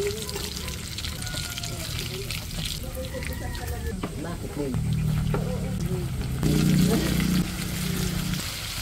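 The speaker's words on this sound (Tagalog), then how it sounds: "nagpiprito din po dito sa may kalan na dinamo" Chicken pieces sizzle and crackle as they deep-fry in hot oil on a dynamo stove throughout, with clattering and stirring sounds and people talking nearby over the frying.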